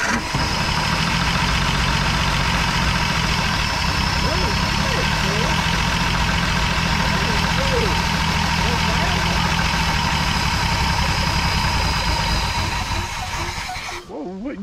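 A 1959 Edsel Ranger engine runs with a steady, rough idle, holding a constant rumble and hiss before cutting out abruptly near the end.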